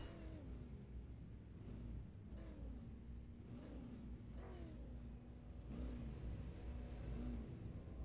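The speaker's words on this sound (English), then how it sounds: "Listening for the revs to rise on these cars." Race car engines idle and blip on the starting grid, a steady low rumble with repeated rising revs from several cars at a distance, continuous and fairly faint throughout.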